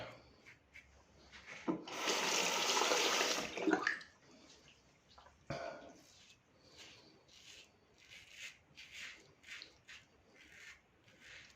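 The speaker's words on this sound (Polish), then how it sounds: "Słychać jak szoruje po zaroście." A dulling razor blade on its fourth use scrapes rasping over stubble in repeated short strokes, close and fairly quiet, with a longer louder rush of water or scraping near the start.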